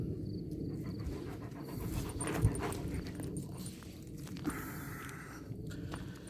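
Steady, close panting from a Kangal dog, with occasional short sniffs and faint shuffling underneath, continuing without pause.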